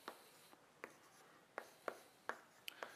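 Chalk writing out a vector field on a board during a calculus lecture, faint and somewhat distant, with a handful of sharp taps and short scratchy strokes spaced irregularly over low room noise.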